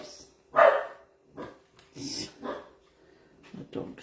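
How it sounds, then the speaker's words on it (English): A dog barks in a few short, sharp bursts, moderately close, with faint room noise and a voice in between. "My dog thinking there's someone here."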